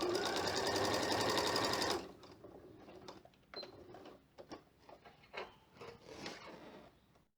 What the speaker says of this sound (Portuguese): deixa a máquina puxar o seu tecido e não prenda ele na hora de fazer a costura